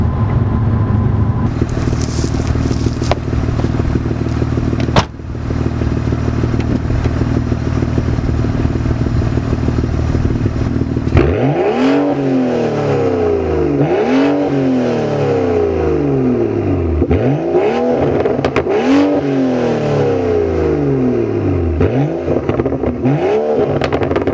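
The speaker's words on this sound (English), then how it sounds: "I should do some revs so you can hear the exhaust" A car idles with a steady hum, then the engine revs repeatedly through a throaty exhaust, each burst climbing and falling in quick succession, loud and close.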